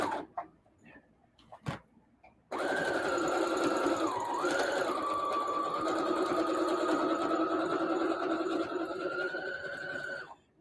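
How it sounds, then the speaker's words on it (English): Sewing machine running steadily for about eight seconds, stitching back along the same line to make a double seam on a bag, following a few faint taps and clicks. "sew the same seam again. So it will be a double seam."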